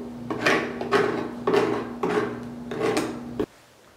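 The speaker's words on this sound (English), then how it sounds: "Deburr the cut surface with a utility knife or a pocket knife." A utility knife deburrs the cut surface of a flow restrictor. Five even rasping scrapes come about half a second apart, close and clear, then stop.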